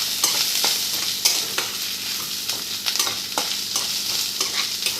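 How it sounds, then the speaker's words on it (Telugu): Onions fry and sizzle in a pan for a military-hotel-style prawn curry, with steady hiss under repeated scraping stirs of a spoon, close and fairly loud, no talking. "చూసారు ఉల్లిపాయ చక్కగా మగ్గిపోయింది."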